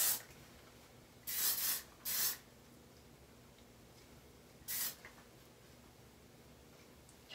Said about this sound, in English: I'm going to spray the curls.